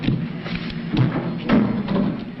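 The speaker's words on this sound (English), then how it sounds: "Suddenly blew up." A muffled, distant explosion from an old B-movie creature film rumbles as a series of low, heavy thumps and booms over a few seconds, with no voices.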